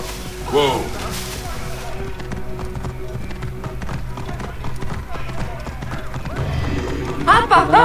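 Rhythmic clip-clop of a horse's hooves galloping in the video game Assassin's Creed Origins, a steady drumming gait with a whinny near the start and game sounds flaring near the end.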